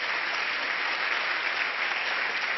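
An audience claps together at a business seminar in a continuous, steady, dense wash of applause, moderately distant and without talk.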